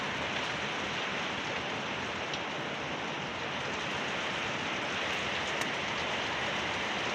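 Heavy rain pours steadily onto a flooded road in Karyasari, Leuwiliang, Bogor, a dense, even hiss of water holding at one level throughout with no voices.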